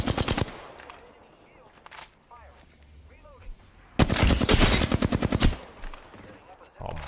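Apex Legends gunfire in sharp rapid bursts: scattered shots early, then a loud dense automatic volley near the middle and a final burst at the end, with faint game sounds between.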